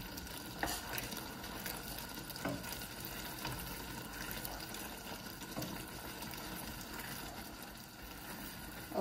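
Peanuts being stirred with sugar in a hot pan over high heat as the water cooks off, giving a continuous sizzle with scraping and rattling, close and steady.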